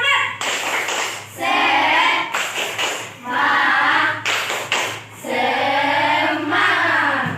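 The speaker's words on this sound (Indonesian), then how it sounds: "Ayo, kita tepuk semangat dulu." A school class performs a rhythmic 'tepuk semangat' clapping cheer, with bursts of group clapping alternating with loud, chanted voices in a repeated, patterned cadence, close and energetic.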